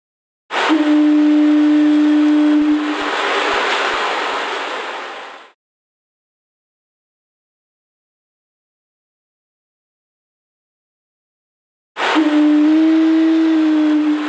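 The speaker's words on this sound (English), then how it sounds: "The sound of the foghorn can be heard for up to 5 miles." A lighthouse foghorn in the Trainz 2019 railway simulator, on a Boston lighthouse, gives a long, steady, low blast over surf-like wash. It cuts to silence, then a second blast starts.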